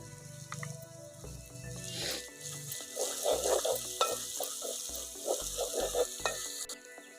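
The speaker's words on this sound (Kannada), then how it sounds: "ಶುಂಠಿ ಬೆಳ್ಳುಳ್ಳಿ ಪೇಸ್ಟ್ ಚೆನ್ನಾಗಿ ಫ್ರೈ ಆಗಬೇಕು." Ginger garlic paste fries with turmeric powder in a pan for a village-style mushroom masala, giving a close, steady sizzle broken by bursts of stirring and scraping, with no talking.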